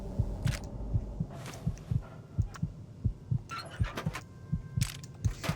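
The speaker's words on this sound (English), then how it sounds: "That heartbeat that you can hear," The near-death heartbeat in Fallout 3 thumps steadily in low double beats at a slow, regular pace, with a faint hum and other game sounds behind it.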